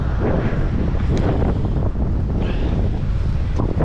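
Strong wind buffeting the microphone in a constant loud roar, with faint water sounds underneath.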